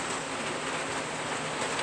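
Rain falling outdoors in a steady, even patter, fairly quiet and unbroken for a short stretch, with no voices.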